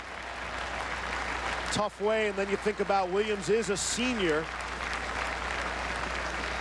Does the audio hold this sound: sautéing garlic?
no